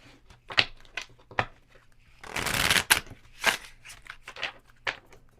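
Tarot cards being shuffled by hand, a series of short crisp riffles and taps with one longer burst of fluttering cards in the middle, close and fairly quiet, no speech.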